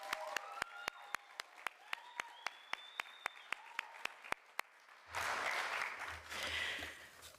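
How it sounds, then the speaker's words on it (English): Audience applause at an adult basic high school equivalency graduation ceremony bursts in about two-thirds through, a dense wash of clapping that follows a stretch of evenly spaced sharp clicks and tones. "Let's give everybody another round of applause"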